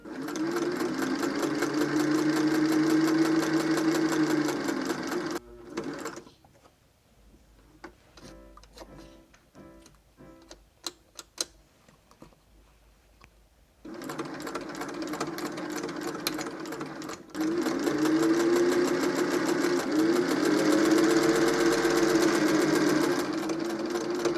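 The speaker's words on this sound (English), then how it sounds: "I'm going to stitch with the widest stitch possible on my sewing machine for the machine basting" A domestic sewing machine runs long basting stitches on a skirt seam, a steady close mechanical whir in two long bursts separated by a quieter gap with light ticking and handling.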